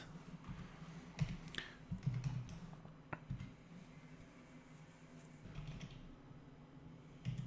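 Quiet, scattered clicks of keys come from a computer keyboard as someone types JavaScript code, with irregular taps over a low room hum.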